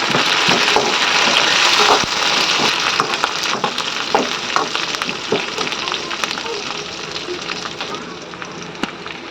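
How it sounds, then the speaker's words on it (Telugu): Curry leaves and onions hiss in hot oil for a drumstick and okra curry, with dense crackling spatter and regular stirring scrapes. The sizzle is close and loud and eases slightly toward the end. "కొంచెం కరేపాకు వేసుకొని బాగా కలుపుకోవాలి"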